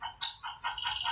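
A hand-fed baby songbird chick gives a sharp, high chirp, then a string of softer, thin twittering calls, close and fairly loud.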